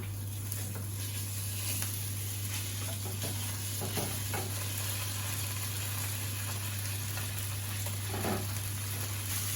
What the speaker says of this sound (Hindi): उसमें थोड़ा सा हमने देसी घी डाला और उसके बाद ये हम इसमें खोया डालेंगे